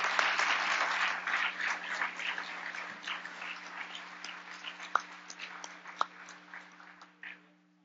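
Audience applause welcomes award recipient Jim R. Yates at the Regents' Alumni Awards ceremony: steady, dense clapping from a large crowd that thins out and fades, with a few last isolated claps near the end.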